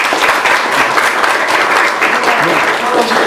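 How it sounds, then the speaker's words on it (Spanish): An audience at a dance choreographers' gathering gives dense, steady applause. The clapping is loud and even throughout, with faint crowd voices underneath. "Un fuerte aplauso para Iván, por favor."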